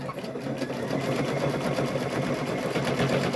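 A sewing machine back-stitches the handle of a fabric trick-or-treat bag, running in a fast, continuous close-up rattle with no pauses.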